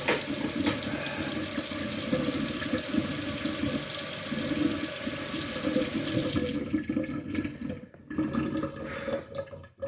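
Water runs steadily from a faucet into a sink, a loud continuous rushing stream that drops off near the end into softer drips and splashes.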